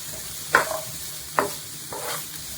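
Onions fry in a pan for a mushroom xacuti, a low sizzle under two or three distinct scraping strokes of a spoon stirring them, with no talking.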